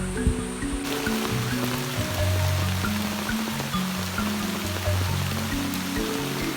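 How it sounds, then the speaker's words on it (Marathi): Steady rain pours down over the jungle on the hills of Yeoor in Sanjay Gandhi National Park, a dense, continuous hiss close around the listener with low tonal hum underneath and no talking. "पाऊस तर चालू झाला इकडे"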